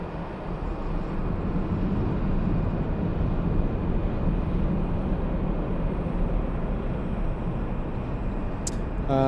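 A Southwest airliner takes off from LAX: a steady, loud, broadband jet roar that holds evenly throughout, with no talk over it.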